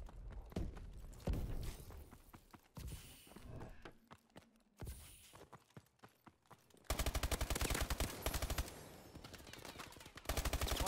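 Video-game firefight in a Detroit hardpoint match: bursts of rapid automatic gunfire and single sharp shots crack up close, with brief gaps between volleys and a dense sustained stretch of fire in the second half.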